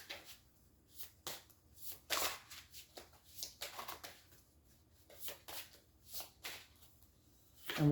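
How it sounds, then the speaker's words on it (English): Cards being shuffled in a series of quick riffling bursts with brief pauses between them, close and quiet, no talking. "let's do a shuffle here as we dedicate this deck for this particular reading"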